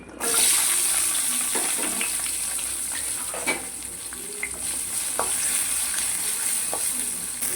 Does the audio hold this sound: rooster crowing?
no